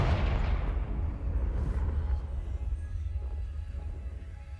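Confringo fire spell blast in Hogwarts Legacy: a heavy booming burst at the start that rolls off into a long rumbling decay, loud and low, with no talk over it.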